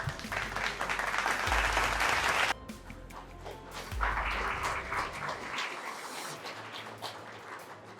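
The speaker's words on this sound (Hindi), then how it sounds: "जोरदार तालियां ओमवीर सिंह और उनके साथी के लिए।" Sustained, dense applause from an audience at an award and felicitation ceremony for Omveer Singh and his companion, loud and steady at first, then thinning into scattered claps with a brief lull partway through.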